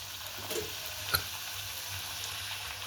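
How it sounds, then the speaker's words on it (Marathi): Puri frying in hot oil in a wok, a faint, steady low sizzle with one brief click or tap partway through, no voices. "टाकली कढईत पुरी"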